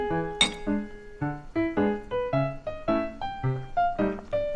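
Glasses of soju and beer mixed one to one clink in a toast at a spicy buldak noodle and grilled tripe meal, followed by a string of bright, ringing glassy pings close by.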